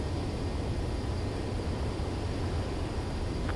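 A fighter jet in Ace Combat 7 comes in to land on a runway, a steady, dense roar of engine and wind noise that fills the whole moment without a break, with no voices.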